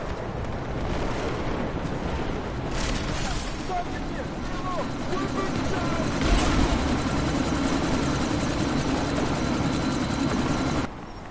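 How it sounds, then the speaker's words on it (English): A helicopter from the video game Deus Ex: Mankind Divided, set in a sandstorm, gives a continuous loud rotor drone mixed with wind roar. Voices talk over it throughout. "this sandstorm might have just bought us some time, but you need to disable that chopper"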